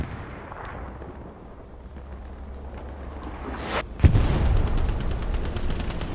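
Video game artillery strikes, a rising whoosh followed by a loud, close impact that leaves dense crackling rumble afterward, all without talk.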